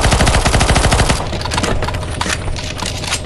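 Rapid automatic gunfire in the CS:GO zombie escape mod on the ze_ffvi_oblivion_castle map, a loud, dense burst of shots that thins into scattered overlapping fire from several weapons.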